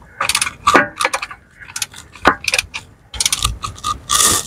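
A ratchet tightens bolts on the starter motor of an Audi A6 with a 3.2 FSI V6 engine, giving several close, quick bursts of sharp clicking with short pauses between them.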